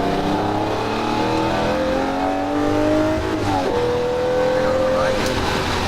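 Lamborghini Murcielago LP640 at full throttle on a speedway, a continuous loud engine howl climbing in pitch, with a gear shift midway and the rise resuming, heard from inside the car.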